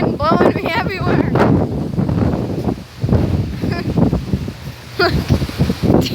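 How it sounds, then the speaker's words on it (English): Strong wind after a hurricane gusts across the microphone, roaring loud and close with rustling debris and leaves, while a person talks over it throughout. "wind blowing me everywhere"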